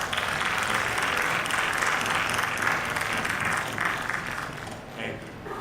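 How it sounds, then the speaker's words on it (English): Audience applause for Dr. Monoma and team at an IMD stakeholder workshop on extreme weather events over Odisha: steady, dense clapping fills the whole stretch, moderately loud, fading slightly near the end. "So let us have a big applause for Dr."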